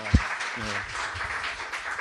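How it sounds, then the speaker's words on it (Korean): Church congregation clapping at an anniversary revival service, a short spread of applause with a sharp thump at the start and brief speech amid the clapping. "우리 하나님께 감사와 영광의 박수를."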